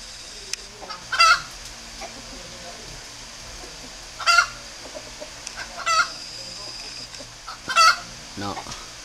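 Spotted doves in a breeding aviary, parents tending their young, give a few short bursts of calls spaced across the stretch, with a steady low background hum and faint bird sounds between them.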